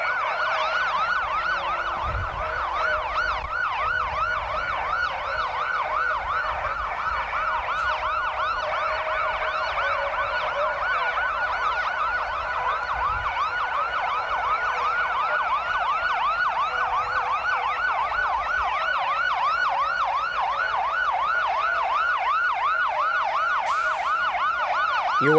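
Fire truck sirens wailing continuously at the 1994 Sydney Santa Claus Parade, several rising and falling tones overlapping loud and steady over street rumble for the whole stretch.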